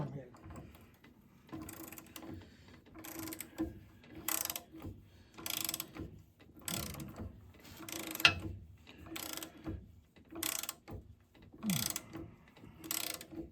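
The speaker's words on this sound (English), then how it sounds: "We're tightening our block to the motor mount." A ratchet tightens the engine block to the motor mount of an F134 engine in a 1956 Willys Jeep, clicking in steady rhythmic strokes about once a second, close and moderately loud, with someone talking faintly underneath.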